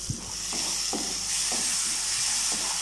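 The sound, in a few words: tomatoes and masala cooking in covered pan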